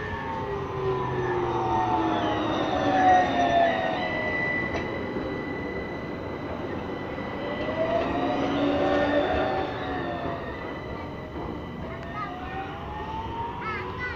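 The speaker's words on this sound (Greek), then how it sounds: "εδώ και καιρό έχουμε να δούμε το παλιό τραμ." An old Ansaldo Breda Sirio tram rolls past near Zappeio, giving a rumbling run with squealing wheel and rail tones that rise and fall, and voices talk over it.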